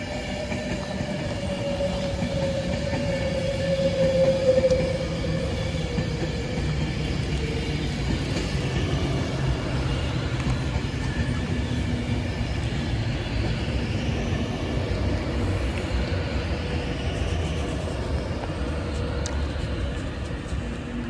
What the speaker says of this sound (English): arriving now is the 1653 Avanti West Coast service to London Euston